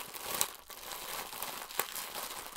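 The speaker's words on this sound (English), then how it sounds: "Our first item appears to be a t-shirt in the loudest plastic possible." Close, continuous crinkling of a plastic bag around a t-shirt being handled, with a few sharper crackles and no voices.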